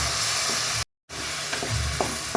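Tomatoes sautéing in a pan, a steady close sizzle and hiss with a few light stirring scrapes, broken by a short silent gap.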